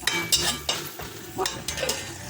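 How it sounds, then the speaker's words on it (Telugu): Tomatoes sizzle in a hot pan for a bitter gourd curd curry, with a constant close fry hiss punctuated by several quick scraping stirs over about two seconds. "ఫ్రై టమాటాలు"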